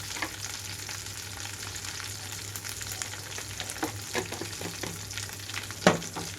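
Onion tempering sizzling in a pan with turmeric for spinach dal, a steady crackling fry with occasional stirring scrapes and pops, close and moderately quiet.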